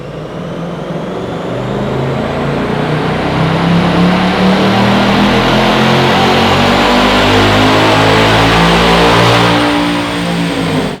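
Ford Mustang S650 revving hard on a dynamometer with a Steeda Pro-Flow cold air intake fitted, hood open and airbox lid off: a loud, sustained engine roar climbing steadily in pitch over about ten seconds, with no talking.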